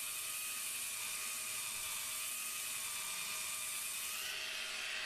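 BSL220E belt sander running with the belt passing over its linear guide: a steady high-pitched whining hum with a constant tonal whir, close and continuous, easing slightly near the end, with no talk.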